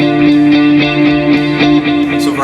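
Electric guitar strummed in steady eighth notes on a sustained chord from a song, each down-stroke a clear, loud, even pulse with a distorted, effects-coloured tone ringing alone.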